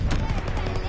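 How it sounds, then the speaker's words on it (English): A fighter plane strafes a target with rapid machine-gun fire in Call of Duty WWII, a dense, loud, close burst of repeated shots over a rumbling game background. "Fighter pilot inbound, strafing the target"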